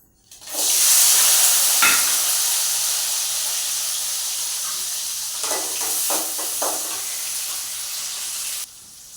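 Small onions and five dried red chillies dropped into hot oil, bursting into a loud, close, continuous hiss and sizzle that slowly settles, with a few stirring scrapes midway.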